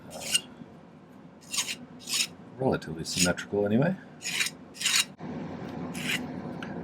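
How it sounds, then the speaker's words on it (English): A file rasps in short, repeated strokes along the edges of a stylized silver flower ring, close and fairly quiet, with a brief stretch of talking in the middle. "now I'm going to smooth out these edges"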